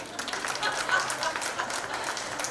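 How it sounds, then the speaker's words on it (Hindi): Short burst of audience clapping at a gathering, fairly close and steady, with crowd voices mixed in. "मैं चाहती हूँ आप लोग यहाँ पे ऐसी तालियां कर दें कि बिजली कड़क जाए"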